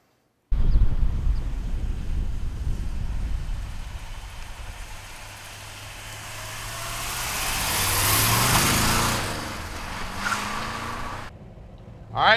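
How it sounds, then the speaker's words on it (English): A 1970 Plymouth Road Runner with a 440 Six Pack V8 and four-speed manual drives off, its deep engine rumble steady from the cabin, then swelling louder as it revs and accelerates before easing off. "All right, let's take this 70 Roadrunner for a ride. V-code 440 six pack, four speed shifter in my hand"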